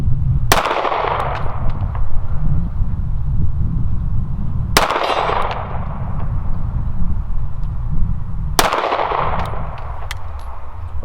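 Three loud, sharp gunshots from a Staccato CS pistol ring out at an outdoor shooting range, spaced about four seconds apart, each followed by a short decaying echo over steady background noise.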